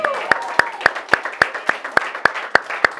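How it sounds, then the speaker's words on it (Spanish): Members of a church congregation clap together in a slow, even rhythm, about ten sharp unified claps spaced roughly a third of a second apart, loud and close, with a faint voice underneath at the start. "Un aplauso."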